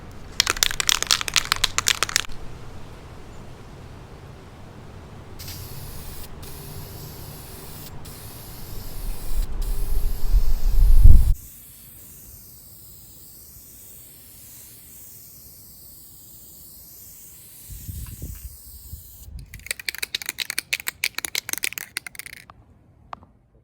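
Aerosol can of vinyl and fabric paint sprayed onto car seats outdoors, with several sharp hissing bursts near the start and end and a longer steady spray in between.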